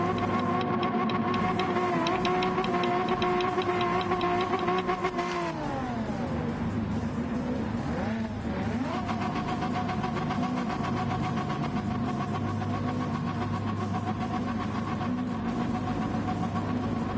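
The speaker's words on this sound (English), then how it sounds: "I still hear my car going." A racing car's engine drones steadily in a manufacturer cup round of a racing video game, holding a constant pitch, dipping briefly as the car shifts, then settling back to a sustained hum.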